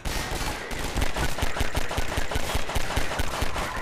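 Rapid automatic gunfire from Half-Life 2, a dense run of sharp loud shots firing almost continuously in a steady rhythm for several seconds, close and without speech.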